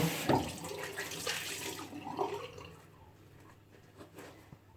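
Cold water runs from a tap while a face is rinsed, splashing loudly at first and then fading to a softer trickle, close to the listener and with no talk.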